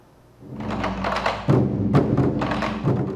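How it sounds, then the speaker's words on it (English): Drums beat to open a Tzu Chi charity concert in Manila: a handful of heavy, booming thuds in loose succession over a sustained resonant wash, loud and close with no talk. "The sound of beating drums marks the start of the charity concert"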